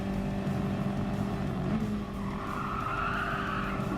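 A race car in a racing game braking hard into a corner on a sprint track, tires squealing steadily while the engine note drops through downshifts, a continuous close screech over low engine drone.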